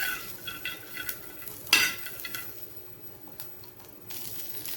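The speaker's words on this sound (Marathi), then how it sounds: "आता हे भाजलेले शेंगदाणे टाकते आणि पुन्हा याला थोडंसं परतून घेते." Roasted peanuts, green chillies and garlic are stirred in a pan for Maharashtrian chilli thecha. Close scraping of a spoon against the pan and light clinks sit over a soft sizzle, with one sharper knock.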